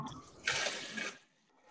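Water poured into a soup pot, about eight cups, a steady splashing rush that swells for about a second and then stops, close and fairly loud, with no talk.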